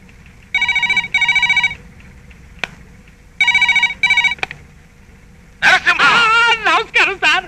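A landline telephone rings in a domestic comedy scene, two bursts of double electronic rings separated by a pause, followed by a person speaking up close.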